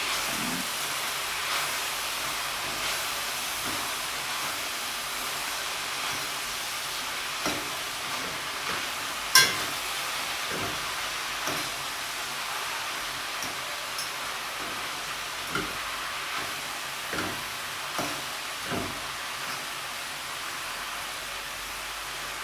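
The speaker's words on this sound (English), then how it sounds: "So I am going to allow it to steam for about 2 to 3 minutes." Cabbage and saltfish steaming in a pan, a soft steady hiss and faint sizzle running throughout with occasional light clicks and taps, no voices.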